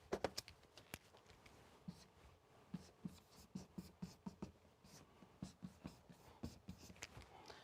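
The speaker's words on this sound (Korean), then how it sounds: "그 말 다 아시겠지만 한번 써보겠습니다" Chalk or marker strokes on a board during a lecture on Korean medicine, a quiet series of short scratchy taps and scrapes in uneven rhythm, with a few faint voice sounds.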